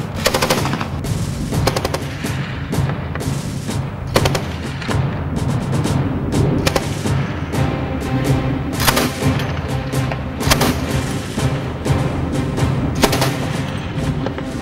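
A remotely controlled 12.7 mm machine gun mounted on a BTR-3 armored personnel carrier fires repeated loud bursts, sharp rapid reports recurring throughout over a rumbling background.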